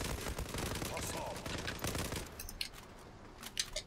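Rapid automatic gunfire from an M468 rifle in the online shooter Zula: dense, continuous bursts for a couple of seconds, then sparser scattered shots trailing off, with faint voice chatter in the background.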